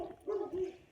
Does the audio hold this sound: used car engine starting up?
no